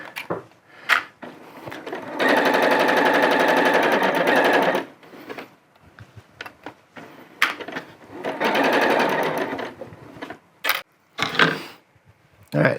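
Sewing machine running in two long steady bursts as it joins two pieces of fabric for homemade camp pants, with short pauses and handling clicks between runs; no talking.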